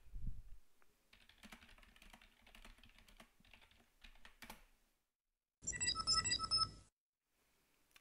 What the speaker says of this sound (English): Each time you receive a message, you get a small audio signal.